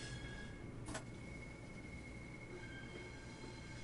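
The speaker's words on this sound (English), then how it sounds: "it's such a smooth train to drive" A Class 465 electric multiple unit running on the Southeastern line in Train Sim World 2, a steady low rumble of wheels and motors with a brief high squeal near the one-second mark and faint tonal whines throughout.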